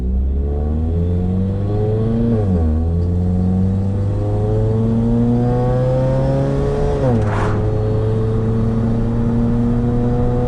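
A car with a freshly welded exhaust drones along on the road, its engine note rising and dropping through gear changes and lifts, loud and close, with steady road and tire noise underneath and no talking.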